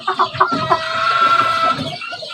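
Battle cross hens clucking close by in a backyard breeding setup, a string of short, loud clucks followed by a drawn-out, warbling call.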